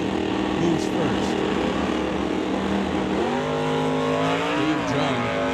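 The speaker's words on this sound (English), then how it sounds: "Big Oldsmobile moves first." A big Oldsmobile drag race car launches at a drag strip, engine roaring and rising in pitch as it pulls away, with a second engine and a blurred track announcer beneath.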